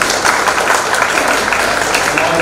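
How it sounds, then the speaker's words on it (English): An audience gives a doctor a round of applause at a talk, a loud, dense and steady wash of many hands clapping that fills the room without pause. "let's welcome Dr. N.P. Singh with a round of applause"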